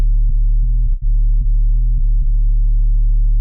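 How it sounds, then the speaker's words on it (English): A sub bass sine wave run through a soft clipper holds a deep, loud, continuous hum with added harmonics, briefly dipping and retriggering a few times in a steady pulse. "the motherfucking sub, it's a sine wave with a soft clipper"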